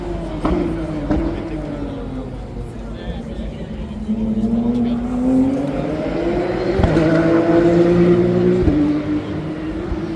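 A Ferrari 296 GTS at a supercar gathering at Spa, its engine note rising and falling in smooth sweeping tones, loud and sustained, swelling louder toward the end.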